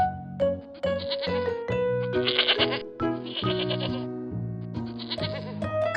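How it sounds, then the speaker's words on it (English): Several goat bleats, loud and close, one after another with short gaps, wavering and nasal in tone, with no other sounds around them. "Goat."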